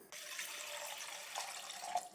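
Tap water running steadily into a cooking pot, a continuous splashing hiss lasting about two seconds, close and moderately loud with no voices, while two glasses of water are measured out for making hibiscus flower tea.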